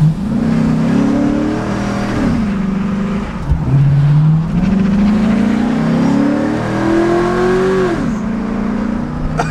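A Chevrolet Silverado pickup engine revs hard during a test drive, loud and close. Its droning pitch climbs and drops in repeated surges, and a whining accessory-belt tone rides along with it.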